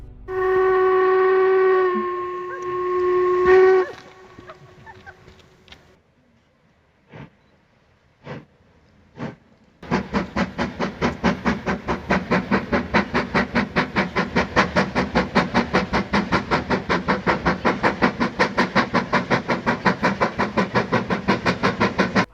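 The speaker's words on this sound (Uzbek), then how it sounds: "Poyezd kelyapti." A steam train's long whistle blast, a few sharp puffs, then a steady rhythmic chuffing and clatter of the train drawing near, in the Scottish Highlands.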